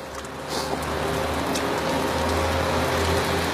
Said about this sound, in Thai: ฝนตกจริง